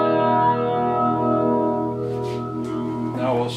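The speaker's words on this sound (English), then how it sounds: "You can hear a slow tremolo oscillating sound." Sustained guitar chord played through a homemade rotary tremolo effect at slow speed, with a gentle wavering swirl in the tone, a voice speaking briefly over it near the end.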